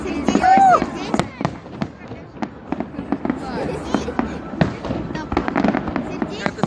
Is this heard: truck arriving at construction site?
no